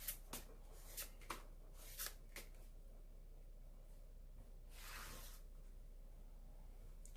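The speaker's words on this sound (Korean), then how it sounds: "추가 카드 뽑아보도록 하겠습니다" Tarot cards shuffled and drawn from a deck in a quiet room: a few quick, soft papery flicks and slides near the start, a longer rustling swipe around the fifth second, then stillness, with no talking.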